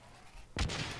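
A grenade goes off in the online shooter Blacklight Retribution, a single sharp, loud blast after a quiet lead-in, with a broad booming burst that decays into lingering noise.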